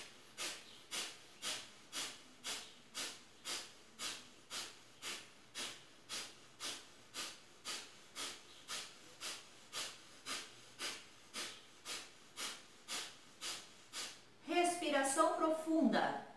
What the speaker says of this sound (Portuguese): Respiração do fogo de novo.